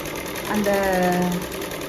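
A sewing machine runs briefly through crepe silk saree fabric, giving a short, rising tonal motor whine that lasts about a second before fading.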